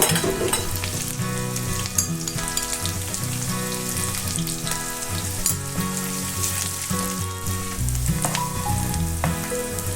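Onion, green chillies and ginger garlic paste frying and being stirred in a pan for bamboo chicken biryani, a loud, steady close sizzle with scraping stir sounds throughout and no talk.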